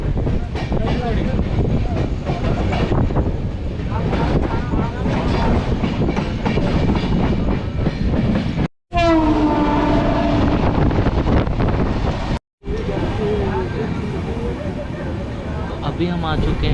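Vikramshila Express passenger train running on rails near Fatuha Junction, a loud continuous rumble with rhythmic clickety-clack of wheels, broken by two short dropouts, with someone talking over it.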